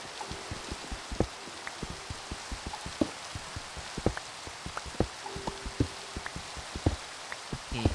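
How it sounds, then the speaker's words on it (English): Rain falling in the Minecraft video game, a steady patter of irregular drops tapping over a soft hiss, with faint game sounds scattered through and no talking. "Okay, now it's raining."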